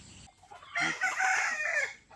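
A free-range village rooster crows once at moderate distance, a drawn-out raspy call, with faint clucking and yard noise around it.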